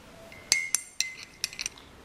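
A spoon strikes the inside of a glass while stirring milk with cream, making about six bright, sharp clinks at irregular intervals, close and distinct against quiet room noise.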